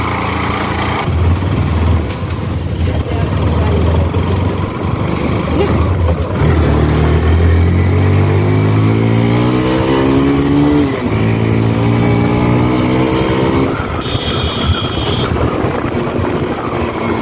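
A Bajaj Pulsar NS200 motorcycle engine revs up close and loud, its pitch climbing and falling through repeated throttle sweeps over a steady idle drone, with a brief pause midway.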